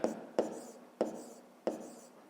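A pen writes on paper in four distinct scratchy strokes, each a sharp start that fades, close and fairly quiet.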